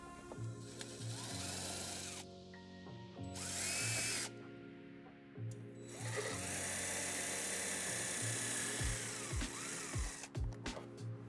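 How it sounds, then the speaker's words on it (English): Power drill boring two holes into a metal ledge above the tailpipe of a 2008 Hyundai Tucson, whining bursts with pauses and speed changes, close and loud, ending in short clicks and taps. "We're going to drill 2 holes so we can put a zip tie there and secure the wire."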